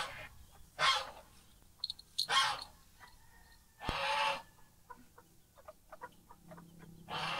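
Farmyard fowl, probably a goose, let out a few loud honking calls spread over several seconds, with scattered clucks, faint chirps and a dull knock in between.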